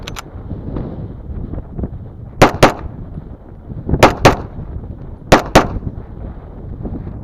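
Pistol shots with Remington 147 grain ammunition fed from Wilson Combat magazines ring out outdoors in three pairs of sharp, loud cracks spaced a second or more apart, with wind rumble between them.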